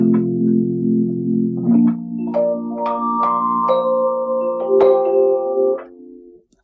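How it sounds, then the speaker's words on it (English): A Fender Rhodes electric piano plays warm, sustained chords followed by a few bell-like single notes and a rising line, close and clear with no voices, fading at the end. "this is the sound of a Rhodes"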